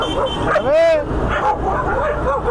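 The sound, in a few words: dogs fighting and barking on the street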